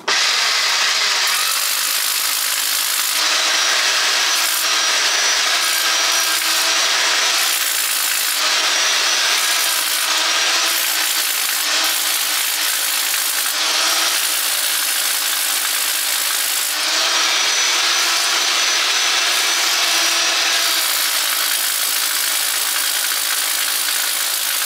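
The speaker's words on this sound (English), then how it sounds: "Now I want to drill it at a slight angle, sort of upwards into the cottage" A drill bores steadily into a cottage wall at a slight upward angle, a loud continuous grinding whine lasting over twenty seconds, with brief changes in pitch and pressure and no talk.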